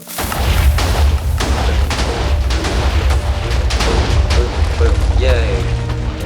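Cannons fire repeatedly in Minecraft on a factions server, a loud, continuous barrage of booms and blasts with a person talking over them.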